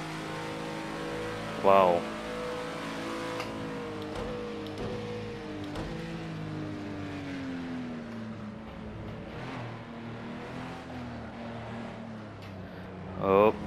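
Steady, droning race car engine from a McLaren in Project CARS 2, tones rising and falling with gear changes, a brief exclamation from a voice in the middle of the run.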